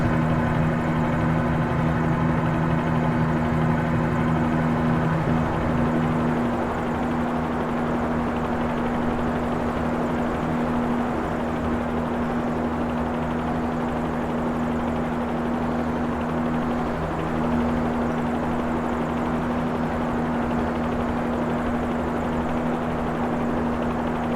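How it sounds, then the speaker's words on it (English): A Bell 47G-2 helicopter's steady rotor drone and engine hum in a flight simulator game, continuous and fairly loud, with a constant tonal whine and no voices. "this helicopter is a joy to fly"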